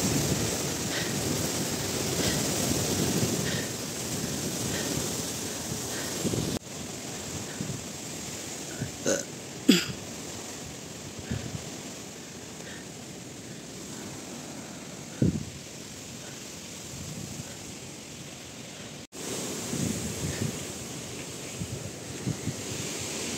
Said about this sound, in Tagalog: Biglang lakas ng hangin guys.